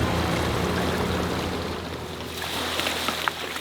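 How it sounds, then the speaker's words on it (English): Fast-moving water rushes past in a continuous turbulent wash, loud and near, with a low rumbling undertone. "Wow, this current is ripping through here."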